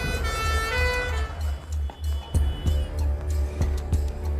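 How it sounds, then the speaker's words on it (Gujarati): A wailing ambulance siren sounds in a film scene, rising and falling tones at first, then fading under a series of sharp thuds and background clatter. "એમ્બ્યુલન્સ"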